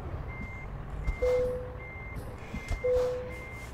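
Reversing beeps from a truck in American Truck Simulator, pulsing twice in steady high tones over a low engine rumble while backing to pin up a trailer, with no talk.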